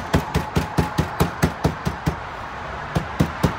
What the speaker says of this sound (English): I'm gonna tap it on both sides to really make sure it's flattened out